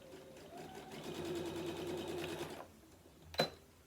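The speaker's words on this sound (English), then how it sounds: "I'm just eyeballing it to sew it down that line." A sewing machine runs in a steady rapid stitching burst while sewing down a quilt binding, close and fairly quiet, then stops, followed by a short sharp click.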